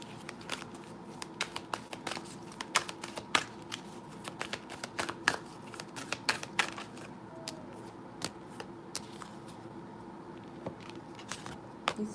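Dragon Oracle cards being shuffled by hand make a long run of quick, close riffling flicks and soft slaps against a quiet room hiss, with no talk.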